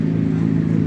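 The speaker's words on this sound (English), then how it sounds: "All bikes raving all around." A motorcycle engine at a crowded bike festival drones in a brief, steady, fairly loud burst with a rich low growl.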